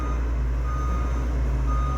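Reversing beeps from a bulldozer repeat steadily at close range, a constant piercing alarm over a low engine rumble, with no talking.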